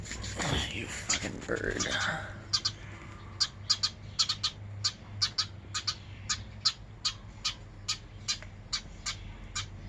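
A bird gives a rapid run of sharp, evenly spaced squawking chirps, loud and close, after a brief burst of a person's voice at the start.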